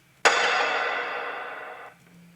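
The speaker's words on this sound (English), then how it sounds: "This is a hit, a crash hit," A single crash cymbal struck once, a bright splashy wash that rings out and slowly decays for nearly two seconds before cutting off.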